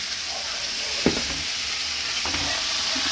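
Vegetables are stirred in a hot cooking pan, a soft continuous sizzle with a couple of brief spatula scrapes against the pan, close and fairly quiet, with no voices.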